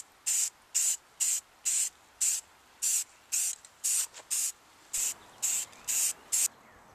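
Self-etching primer sprayed from an aerosol can onto a bare metal fuel tank in about fourteen short hissing bursts, evenly spaced and close, with faint clicks between them.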